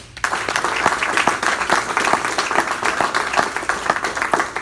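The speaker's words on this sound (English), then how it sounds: "let's give a round of applause." A round of applause fills a Rotary Club meeting room, steady clapping from a modest crowd that begins abruptly and continues evenly with no talk over it.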